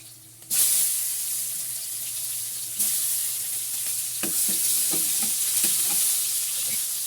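Onions sautéing in a pan, a steady close sizzle starting abruptly, swelling louder partway through, with repeated scraping and clacking strokes of stirring in the second half.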